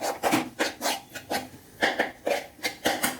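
A spoon works through a fish cutlet mixture of netholi anchovy and onion in a bowl, a steady run of soft rhythmic rubbing strokes, close and quiet, with no talk.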